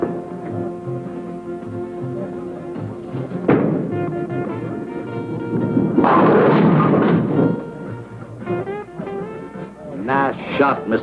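A gunshot from a 1961 film noir crime drama rings out as a sharp broadband crack amid orchestral score and dialogue, followed by a louder sustained burst and further percussive hits, mixed under music and voices.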